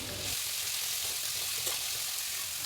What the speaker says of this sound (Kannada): ಈರುಳ್ಳಿ ಚೆನ್ನಾಗಿ ಫ್ರೈ ಆಗಲಿ, ಗೋಲ್ಡನ್ ಬ್ರೌನ್ ಕಲರ್ ಬರೋ ತನಕ ಚೆನ್ನಾಗಿ ಫ್ರೈ ಮಾಡ್ಕೊಳ್ಳಿ.